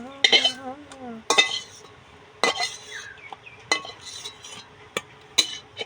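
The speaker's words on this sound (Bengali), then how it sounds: "ভাজা হয়ে গিয়েছে, আমি পেঁয়াজ তুলে নেব।" A metal utensil scoops fried onions out of a wok, giving sharp scraping clinks and knocks at irregular intervals over a faint background sizzle, with brief voice sounds at the start.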